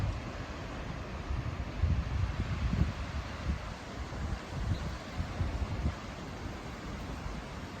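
Steady outdoor wind at a lakeside pier roars across the microphone with low rumbling gusts that rise and fall, continuous and fairly loud with no voices.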